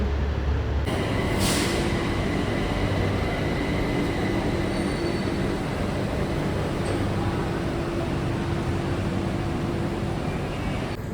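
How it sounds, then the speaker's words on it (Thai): A train rolls into Lat Phrao station in Thailand with a steady mechanical rumble, a brief high squeal early on, and humming tones as it slows. "ตอนนี้รถไฟก็มาแล้วเนาะทุกคนเดี๋ยวมาเดินทางกันเลย"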